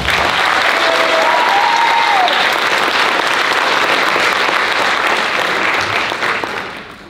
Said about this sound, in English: So let's give a big round of applause to Miss Devin Williams.